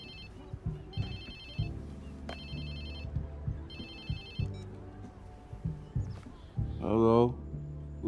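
A phone rings in the video game Watch Dogs 2, sounding as three or four repeated electronic trill bursts over low ambient game music, followed by a brief voice at the end.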